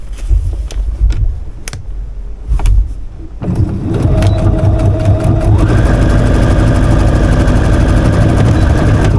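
A sewing machine stitches a foundation paper pieced quilt block, starting after a few handling knocks and running in a steady, fairly loud mechanical whir that speeds up partway and continues to the end.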